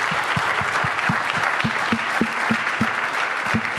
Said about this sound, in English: Can we get another round of applause for this group?